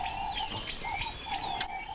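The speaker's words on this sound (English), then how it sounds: "The sounds to wake up to, the birds chirping" Birds chirping in the morning in the South African countryside, with repeated thin high tweets and whistled calls over a steady insect-like drone, fairly close and clear with no talking.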